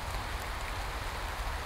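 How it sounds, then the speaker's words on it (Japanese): Rain suddenly pouring down over dry white ruins amid forest, a steady, dense hiss of falling drops with no voices. "突然雨が降り注ぎ、"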